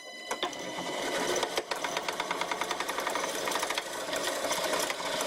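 A homemade bowl gouge with a damaged, screw-nicked edge cuts wood on a lathe, giving a fast, steady, rhythmic chattering tick over the motor's hum, close and fairly loud throughout.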